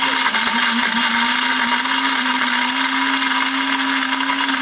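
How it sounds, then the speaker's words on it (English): An electric spice grinder whirring steadily as it grinds whole spices including a cinnamon stick, a loud, close, constant motor hum with a gritty rattling edge. "I've transferred them into a spice grinder, and we're going to grind them up until you've got an even spice mix"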